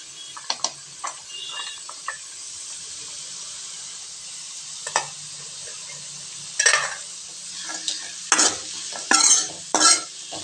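Cashews fry in hot oil for mint pulav with a soft continuous sizzle. Intermittent stirring scrapes and louder hissing bursts come toward the end.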